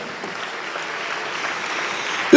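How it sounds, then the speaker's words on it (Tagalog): A church congregation claps together in a broad, even wash of applause that holds steady and swells slightly at the very end. "Lahat tayo sama-samang pumalakpak sa Diyos."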